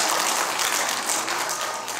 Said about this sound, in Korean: 정말 고마운 감사한 박수 보내주십니다